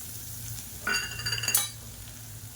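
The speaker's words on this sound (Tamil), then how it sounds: "இது நல்லா மொறுமொறுன்னு வறுத்துக்கலாம்." About ten crushed garlic cloves, skins still on, drop into hot oil for crisp frying, giving a short burst of crackling sizzle midway that settles back to a quiet hiss over a low background hum.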